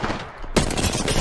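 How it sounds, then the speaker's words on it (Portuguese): Gunfire in Apex Legends erupts abruptly as a loud, dense burst of rapid shots that fills the second half of the moment after a quieter lead-in. "Ai, tô tomando tiro, não sei de onde."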